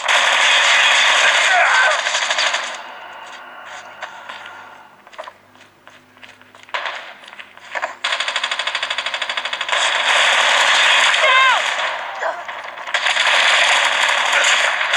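Call of Duty Mobile gunfire plays on a Realme 6 Pro phone in long rapid bursts of automatic fire. Quieter scattered shots and clicks fill the gaps, and the shooting returns loud in the closing seconds.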